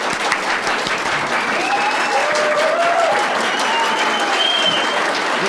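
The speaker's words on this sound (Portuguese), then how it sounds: "Palmas para essas pessoas." Sustained audience applause, dense and even, with a few whistles and shouts rising above the clapping, from a crowd at a transparency commission hearing.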